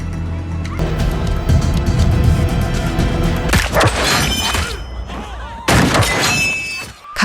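Rapid gunfire crackles in an action movie, dense bursts of shots and impacts layered over a tense score, with loud clustered volleys in the middle and again near the end.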